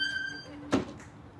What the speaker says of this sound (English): Do you mind shutting the door behind you?